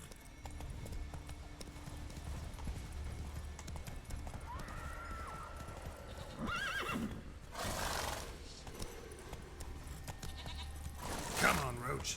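A horse in The Witcher 3 video game neighs and whinnies several times over steady clip-clopping hooves, with a voice urging it on in between.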